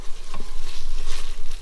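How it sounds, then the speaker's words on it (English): Butter melting in a pot for lobster bisque, stirred steadily, giving a loud continuous crackling sizzle with soft scraping throughout. "We're gonna let that get melted. And we're gonna stir it up."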